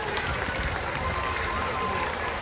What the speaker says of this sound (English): Give yourselves a round of applause, everybody.